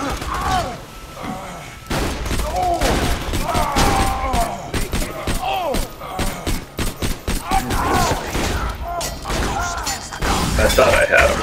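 Gunfire in the Borderlands 2 video game, repeated loud bursts of shots and thuds, with players talking over the shooting.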